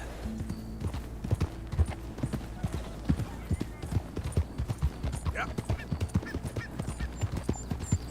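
Horse hooves clip-clop steadily in Red Dead Redemption 2, a brisk repeated rhythm of close hoofbeats that carries through the whole stretch alongside soft ambient game sound.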